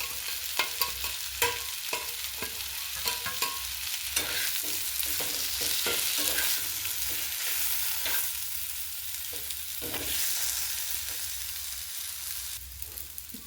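Spices sizzle in hot oil with raw banana, onion, ginger and garlic as a utensil scrapes and stirs the pan in irregular strokes, a steady close fry with no voices.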